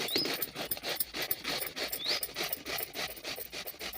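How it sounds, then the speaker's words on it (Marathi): A peeled, tender bottle gourd is rubbed against a hand grater for village-style cooking, producing steady rasping scrapes in a quick repeating rhythm, close and fairly soft, with no talking. "दुधी भोपळा आता आपण सर्व किसून घेऊया"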